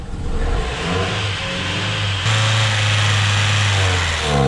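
An Opel Omega left abandoned for fourteen years runs in a garage with a steady, rough engine rumble that rises in a rev partway through, loud and close throughout.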